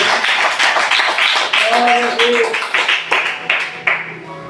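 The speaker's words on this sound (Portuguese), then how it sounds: "Palmas para ele novamente." A church congregation claps in a dense, rhythmic burst of many hands close by, slowly thinning toward the end, with voices calling out underneath.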